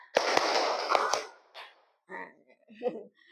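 Hands clap in a counted classroom exercise, several sharp claps landing close together over a teacher's voice, followed by more talking.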